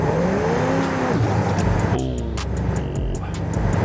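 Car engine in Forza Horizon 5 straining in fourth gear as it accelerates, a loud droning rev that dips and climbs, with a few short higher-pitched game sounds over it.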